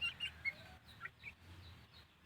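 Hens clucking in a backyard chicken coop, a few soft, fairly distant clucks and short calls scattered over a quiet low rumble.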